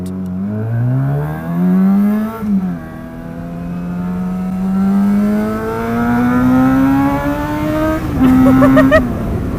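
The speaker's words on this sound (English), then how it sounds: "going fast. It's a scooter." A scooter races past at speed, its high buzzing engine note rising and falling as it nears and then recedes, loud and steady throughout with no talk over it.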